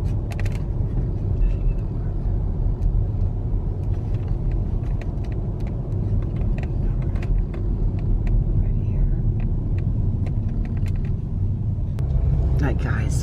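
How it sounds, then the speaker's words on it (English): Car driving along small, narrow rural roads, with a steady, loud engine and road rumble throughout and a voice talking over it. "I have been driving and driving and driving for such a long time."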